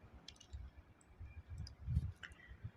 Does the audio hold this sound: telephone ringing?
no